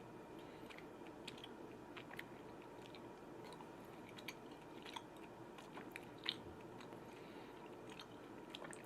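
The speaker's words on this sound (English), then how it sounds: "I'm actively chewing it." Someone chews a soft, sour candy close to the microphone, faint wet munching and small crunches over a steady background hiss.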